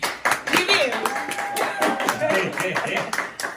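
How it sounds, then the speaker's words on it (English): Clapping on a radio talk show marking its first episode, a few distinct hand claps in quick succession mixed with talking and excited voices. "So can we get a round of applause for that?"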